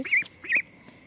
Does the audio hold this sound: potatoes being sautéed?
no